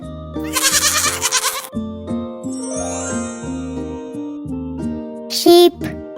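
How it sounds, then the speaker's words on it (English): A goat gives a loud, quavering bleat, then another short bleat near the end, over a bouncy tinkling tune. "Goat."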